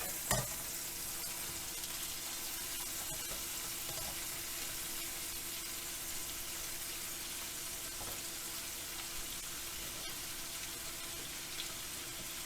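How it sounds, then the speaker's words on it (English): A pork roast, already pressure canned, browns in a pot before onions go in. A steady, moderately quiet sizzle and frying hiss runs throughout, with a few faint clicks and no voices. "we're gonna put some meat in it and let it get a little brown on it"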